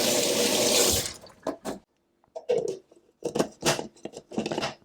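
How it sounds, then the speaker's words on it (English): A kitchen tap runs in a steady gush for about a second, then stops, followed by short bursts of splashing and patter as hands are rinsed and shaken under it, with no talk. "I'm just going to wash my hands."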